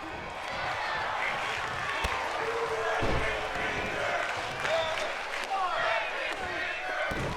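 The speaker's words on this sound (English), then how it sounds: "you can hear the crowd chanting, break his fingers" A packed wrestling arena crowd chants steadily during a one-on-one match, a dense, continuous roar of many voices with occasional thuds from the ring and a commentator talking over it.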